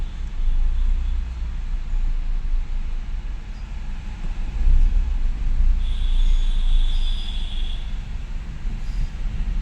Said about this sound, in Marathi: बघा हॉर्नचा आवाज बघा ट्रेनचा.